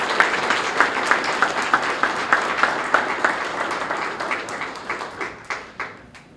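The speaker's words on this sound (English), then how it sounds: "Let's give her a round of applause." Applause from the audience at a police awards ceremony honoring officers with life-saving awards: steady, dense clapping with regular accented beats, holding evenly before thinning into scattered claps and fading out.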